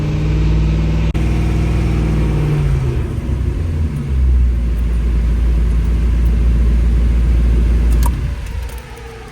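An AMC Hornet's freshly broken-in engine settles from a loud steady run into a deep, rumbling idle, close and continuous, before the sound cuts away near the end.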